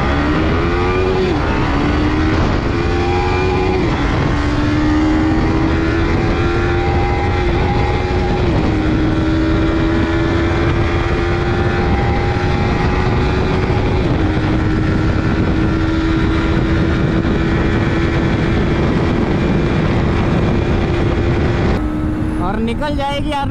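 A 2024 Bajaj Pulsar NS200 and a Yamaha R15 V4 drag race side by side; loud engines whine and climb steadily in pitch, dropping briefly at each gear change, with someone talking faintly beneath.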